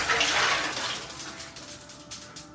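Water pouring into a bathtub full of ice for an ice bath, a rushing splash that is loudest at the start and then eases into a softer trickle with faint clinks.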